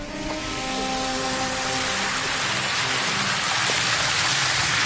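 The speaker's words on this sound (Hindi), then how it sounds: "यहाँ पर पानी एक झरना के तौर पे जाता है" Water pouring down a small waterfall at a bathing spot in Bhoot Khola near Butwal, Nepal, a steady loud broadband rush with no breaks, close by.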